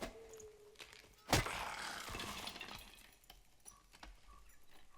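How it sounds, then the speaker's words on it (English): A single sharp crack and splintering break as a wooden box is smashed by a magic staff in the dungeon game Dark and Darker, followed by quieter rattling debris and low background ambience. "It 2 hits all the breakables, which means you can break boxes"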